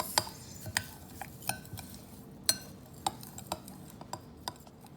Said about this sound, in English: you're going to put that in here and mix that with your mozzarella cheese